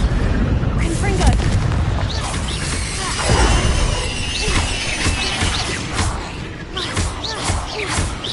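Repeated fiery blasts from the Confringo spell in Hogwarts Legacy, loud booming explosions and crackling impacts rolling over a dense, continuous battle din with a voice calling out spells.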